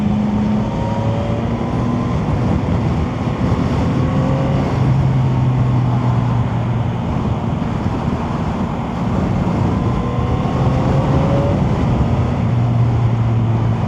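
A Chinese 650 cc motorcycle's engine drones steadily while riding, with a constant close hum, shifting tones and road and wind noise, and no talking.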